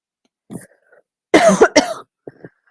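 Two harsh, close allergy coughs in quick succession, with a few softer throaty noises before and after them.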